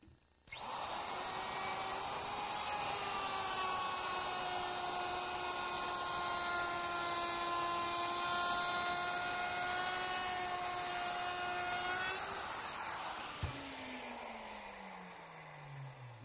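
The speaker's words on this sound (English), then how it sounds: "The next one is the Roman ogee, or the ogee bit." Router table cutting a decorative wood edge with a Roman ogee bit, a loud high whine sustained for about twelve seconds before the motor winds down, nearby with no talk.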